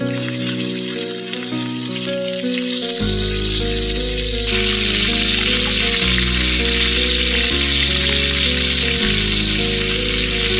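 Large beef pieces fry in fat with a continuous hissing sizzle, about a kilogram for Afghan Kabuli pulao. Steady background music plays throughout and partly masks the sizzle. There is no talking.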